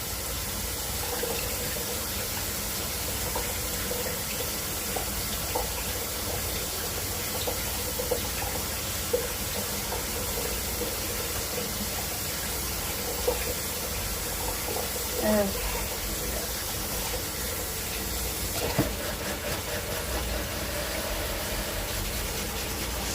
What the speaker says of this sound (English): So not easy washing a whisk.